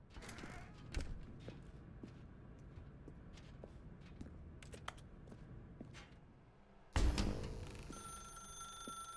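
A telephone rings in a dark room in The Stanley Parable: Ultra Deluxe, cutting in suddenly and loudly near the end after a stretch of low ambient creaks and soft footsteps.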